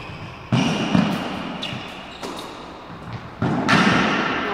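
A padel ball struck and bouncing during a rally, heard as several sharp, close thuds and pops spaced irregularly over a steady, noisy court ambience.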